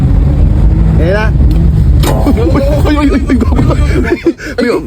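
A car on a test drive gives off a steady low engine rumble from inside the cabin, beneath continuous close talking and laughter.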